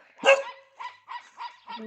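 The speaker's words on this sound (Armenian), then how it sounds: "Իրա հաչոցը, հաֆ" A small dog gives a sharp bark followed by four shorter, higher yips in quick succession, close by and fairly loud.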